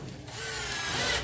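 A power drill drives a screw into a wooden doorjamb during a door-frame installation, giving a steady, close whirring grind that holds for just over a second.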